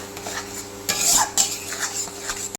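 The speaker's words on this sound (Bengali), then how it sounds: "কাজু বাদাম বাটা জলটা একটু অ্যাড করব, যাতে মশলাটা ভালো করে কষানো যায়, লেগে না পড়ে" Spice paste thinned with cashew paste water being stir-fried for a prawn malai curry, a soft sizzle under close metal spoon scrapes and clinks against the pan, with a louder burst of stirring midway.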